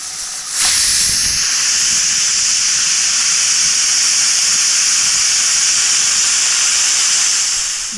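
A pressure cooker of cowpeas lets out a loud, sustained whistle of escaping steam. It starts with a sharp burst and then holds a steady, bright hiss for several seconds with no talking.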